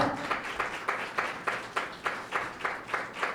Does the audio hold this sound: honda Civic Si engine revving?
no